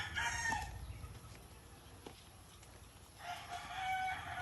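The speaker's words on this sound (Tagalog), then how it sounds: "makita mo doon mga manok manok na diri sa among silingan" A rooster crows twice, fairly distant, with a quiet outdoor background between the calls.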